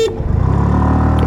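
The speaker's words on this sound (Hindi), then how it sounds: "will start with 3 horns" A single loud, steady scooter horn honk blares up close, a thin buzzy tone holding for just over a second, from a 2025 TVS Jupiter 125 or Hero Destini 125.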